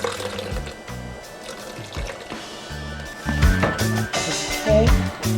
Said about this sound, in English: So I'm just going to add a little bit of the water that I was soaking it in.